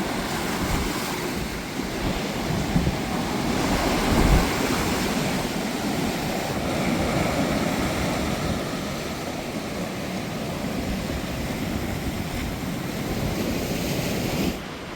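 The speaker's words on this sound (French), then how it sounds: "il y a des grosses vagues quand même aujourd'hui." Loud, continuous roar of big ocean waves crashing and rushing on a beach in Portugal, with wind buffeting the microphone.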